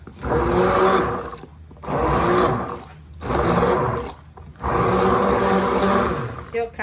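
A partly broken blender whirs in four loud bursts of a few seconds each, its motor roaring and grinding close by, with short quiet gaps between the runs.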